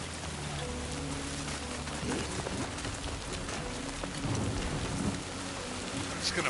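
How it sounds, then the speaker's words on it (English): Steady heavy rain with rolling thunder in the video game Death Stranding 2, a continuous dense downpour hiss with low rumbles swelling through it, no talking over it. "Oh, look at that rain."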